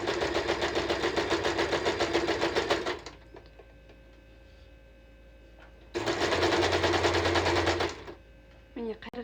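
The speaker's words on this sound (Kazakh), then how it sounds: "Осылай бүкіл шетін 3 шетін тігіп шығамыз." Sewing machine stitching the edges of a scarf in fast, even bursts: a loud run of rapid stitching, a quiet pause, then a second burst, ending with a few faint handling clicks.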